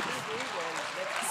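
Audience at a public forum conversation clapping, a modest, fairly quiet patter of applause running continuously with a voice talking over it.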